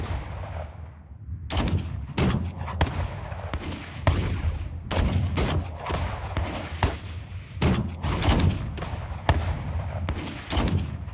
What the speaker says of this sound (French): Soudain, un coup de feu retentit.